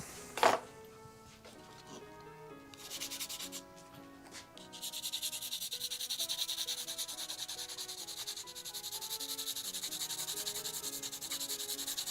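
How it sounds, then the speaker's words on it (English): Pencil being sharpened by hand, wood shaved off to expose a longer tip, with soft, close, continuous rubbing and scraping and a sharp tap at the start. "So like I sharpened it because I took this wood off here so I could get a longer tip"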